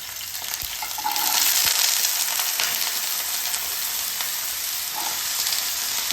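Green chillies and potato pieces sizzle steadily in a pan as they fry, with a constant close hiss and a few faint stirring scrapes. No one speaks.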